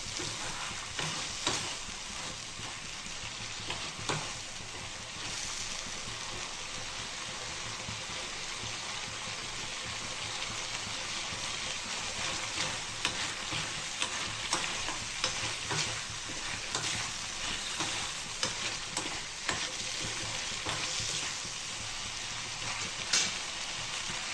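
Dried fish fries in a pan while being stirred, a steady crackling sizzle broken by repeated scraping stir strokes, close and fairly quiet throughout with no talking.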